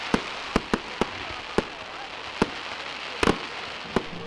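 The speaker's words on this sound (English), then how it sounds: "even got to see my first fireworks show." Fireworks bursting at Lewes Bonfire Night in England, with a run of sharp, loud bangs at irregular intervals, including a quick double crack, over the constant roar of a large outdoor crowd.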